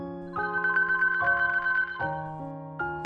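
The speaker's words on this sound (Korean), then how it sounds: "전화가 걸려왔습니다" An electronic phone ringtone signals an incoming call in an audiobook, a clean, loud melodic sequence of sustained tones alone with no voices.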